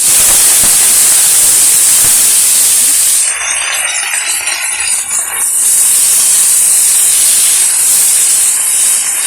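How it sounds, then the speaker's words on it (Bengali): Onion fritters fry in very hot oil in a wok over an earthen stove, a loud, continuous, close hiss of sizzling that briefly softens midway before surging again. "চলো আখায় পেঁয়াজ কলিটা কড়াইতে দিয়ে দিই। দেখো তেলটা না খুব তেতে গেছে।"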